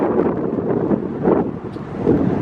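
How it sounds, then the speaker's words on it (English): Wind gusts and rumbles across the microphone at a vacant Marathon gas station under renovation, a close, steady buffeting roar that swells and eases through the brief moment. "Of course, we got our friend the wind back."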